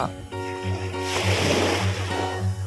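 Sea waves wash at Jomtien beach in Pattaya as a loud, close surf hiss under someone talking.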